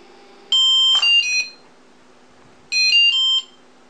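Drone electronic speed controllers running BLHeli on a Pixhawk setup beep while calibrating: two bursts of short, clear, melodic tones separated by a quiet pause.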